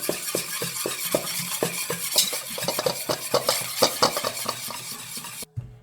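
Rouille sauce with garlic being mixed in a bowl, a steady run of close scraping and tapping stirring strokes, fairly loud and rhythmic, ending abruptly.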